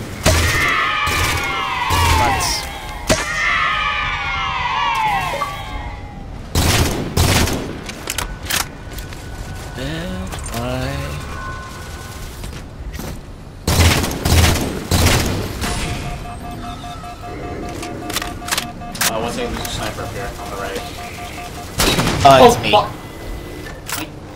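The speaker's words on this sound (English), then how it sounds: "I shot you because I had one shot left and I shot your elbow." Gunfire from a Halo 4 campaign match, with repeated loud bursts and booming shots scattered through the clip among other game sounds, as players talk over the action.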